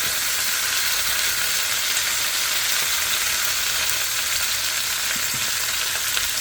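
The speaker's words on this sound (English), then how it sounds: "Skin side down, like always. All we're doing here is browning." Chicken thighs brown skin side down in a pot, giving a dense, even frying sizzle that holds steady and fairly loud throughout, with no voices.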